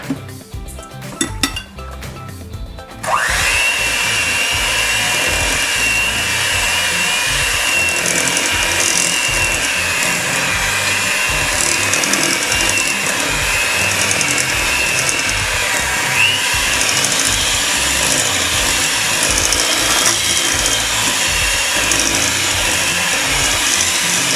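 An electric hand mixer whirs loudly and steadily, beating dry ingredients into wet red velvet pudding cookie dough in a bowl, the continuous motor drone starting after a few seconds of clattering and running uninterrupted to the end.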